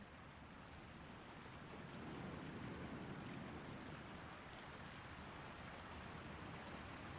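Soda Butte Creek in winter rushes steadily in a continuous broadband wash of flowing water, a dense, even roar that holds at a moderate level throughout with no voices.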